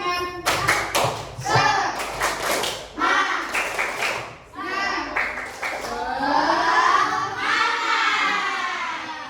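Schoolchildren in a classroom do a rhythmic clapping chant: several bursts of sharp, unison claps are punctuated by loud group shouting, all close and energetic.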